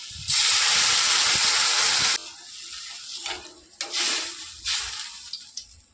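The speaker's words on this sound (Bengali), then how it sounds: "আলু কচু দেখে বুঝতে পারছেন তেলের সঙ্গে এবার জল দিয়ে দেবো" Water poured into hot oil over partly cooked taro and potatoes for a hilsa curry erupts in a loud, sharp hiss for about two seconds, then settles into softer, uneven sizzling bursts.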